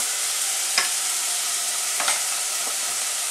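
Vegetables being stirred with sugar in a hot pan to caramelize, a steady sizzle running throughout with a few distinct scraping strokes of the utensil, close and alone.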